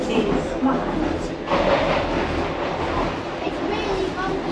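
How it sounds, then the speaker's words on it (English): A Docklands Light Railway train in London rumbles and clatters along the tracks nearby, a steady rolling noise with faint squeals from the wheels. "Here comes a train, here comes a train."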